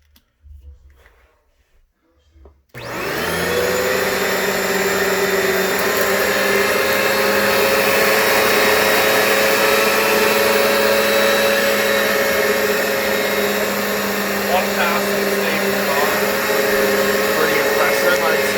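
A Hoover Power Path carpet cleaner starts after a brief quiet moment and runs loudly and steadily as it extracts a stain, its whining motor and suction holding constant to the end.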